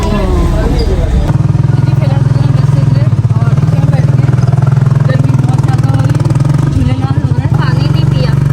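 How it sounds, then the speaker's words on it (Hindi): Vehicle engine running as it gets ready to depart, a loud, steady low drone that continues throughout, with people talking over it close by. "गाड़ी चलने वाली है"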